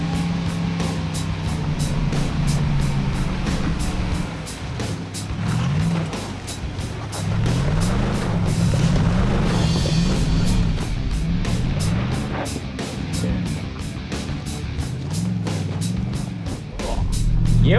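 Off-road cars with varied setups driving a dirt track, engines droning loud and steady with revving, wavering pitch as they work through the course, continuous for the whole stretch.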